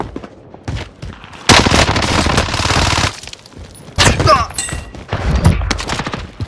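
Gunfire in a Warzone match on Rebirth Island: bursts of automatic fire and scattered shots crackle across the clip, loud and close, with heavier thuds between volleys and a voice speaking briefly.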